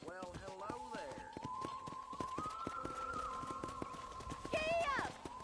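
Horse hooves galloping in Red Dead Redemption, a steady rapid clip-clop rhythm running under a sustained melodic tone, with a neigh near the end and talk over parts of it.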